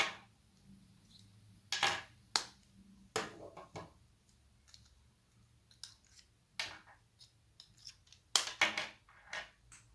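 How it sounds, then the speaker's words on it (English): Apple AirPods and i12 TWS earbuds are pulled from their plastic charging cases, giving sharp, close clicks and snaps from lids and magnets in irregular bursts with quiet gaps. "And now I'll take out each AirPod from their case."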